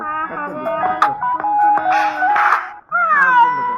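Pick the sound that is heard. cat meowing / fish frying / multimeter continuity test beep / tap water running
cat meowing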